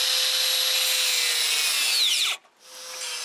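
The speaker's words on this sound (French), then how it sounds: "J'utilise aussi la meule pour couper l'excès de bois au bout" An angle grinder cuts excess wood off the end of a piece for a snowmobile sled hitch. It gives a loud, steady high whine that drops in pitch, cuts out abruptly near the end, then returns faintly.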